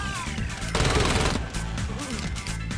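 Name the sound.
enemies firing guns in Saints Row video game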